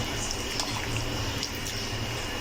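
Water splashing and trickling in a bowl as flour dough is washed for homemade soya chaap, a steady close wash of liquid with faint drips and squelches throughout.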